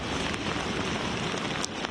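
Heavy rain falls steadily during unusual river flooding in northern Spain, a dense continuous hiss with faint wind rumble and a few sharper drops, close and fairly loud, with no voices.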